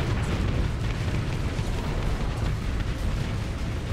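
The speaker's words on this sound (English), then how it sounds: "Oh, chunk had exploded off." A dense, sustained explosive rumble from a large space battle in the modded Starsector game, Remnant battlefleets against a pirate campaign, loud and low-heavy with continuous roaring bursts and no talk.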